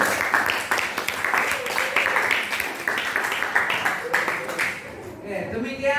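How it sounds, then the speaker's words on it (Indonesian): Applause for a student discussion group in a classroom: a continuous patter of many hands clapping for several seconds, then fading near the end, with voices mixed in. "Oke, kita beri aplaus lagi untuk kelompok 1."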